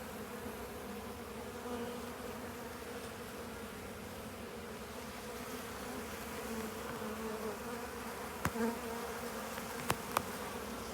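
Honeybees at their hives hum continuously in a soft, steady buzz, with a few faint clicks toward the end and no speech.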